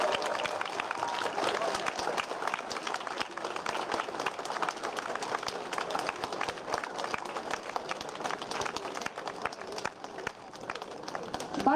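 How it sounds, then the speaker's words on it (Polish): Crowd at an outdoor brass band festival in Tarnogród applauds a large wind orchestra, many hands clapping in a fast, dense patter that runs unbroken for about twelve seconds, with faint voices mixed in. "jeszcze raz niech nasze brawa będą proporcjonalne do wielkości tej orkiestry"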